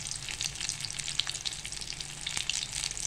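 Paneer pakoras deep-fry in hot oil, giving a bright, dense, continuous crackling sizzle up close with small pops throughout.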